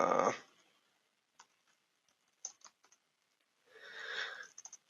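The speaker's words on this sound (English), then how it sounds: "I'm typing badly." Sparse keyboard typing on a computer, a few faint, separate clicks and short clusters of keystrokes in a quiet room, with brief rustling bursts at the start and near the end.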